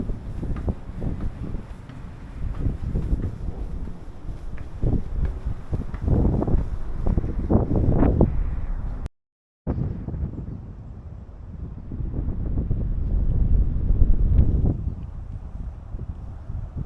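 Strong wind in the Japanese Alps buffets the microphone in loud, rumbling gusts that swell and fade, broken by a brief dropout midway.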